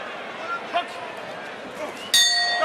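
Boxing ring bell sounding at the end of a round in a 91kg bout, a bright ringing strike near the end of the clip over crowd noise and commentary.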